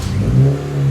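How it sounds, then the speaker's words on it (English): Mini Cooper S R53 engine catching and revving up, a steady close mid-pitched drone that rises and holds for about a second with no voices. "Ignition, engine started."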